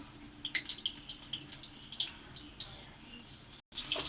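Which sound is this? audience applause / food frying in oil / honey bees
food frying in oil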